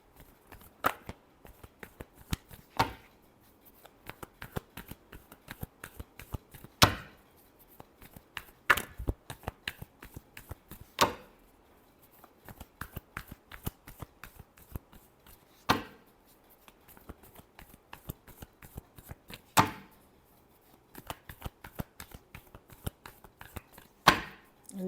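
Tarot cards are shuffled by hand in quick papery riffles and taps, clustered in bursts with short pauses over a quiet room, with soft occasional voice.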